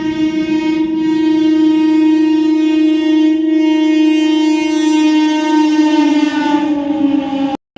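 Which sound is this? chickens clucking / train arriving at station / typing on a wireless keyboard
train arriving at station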